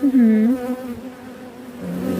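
Honeybees buzz in an open beehive, a close steady hum with a wavering pitch that carries alone through the short clip.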